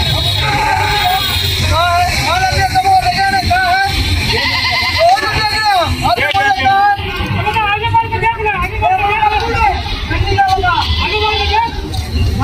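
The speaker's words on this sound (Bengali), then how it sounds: "কত ছাগল দেখো বন্ধুরা।" A large herd of goats bleats in Kolkata, with repeated wavering calls overlapping almost continuously over a loud background of crowd babble and street noise.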